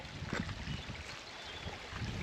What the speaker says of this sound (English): It's a nice little creek.